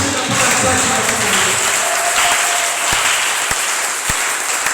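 A church congregation at a Sunday service applauds in a sustained, dense burst of clapping that fills the room, thinning slightly toward the end with a few isolated claps.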